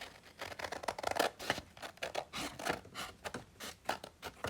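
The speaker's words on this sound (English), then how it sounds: "kind of cutting a little of the file folder there" Scissors snip through a paper file folder in a quick, irregular series of close, crisp cuts with brief pauses, no talking.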